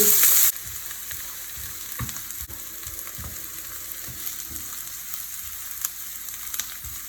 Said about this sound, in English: I'm going to put 1/2 of the onions into the pan. I'm going to saute it for a few minutes until golden brown.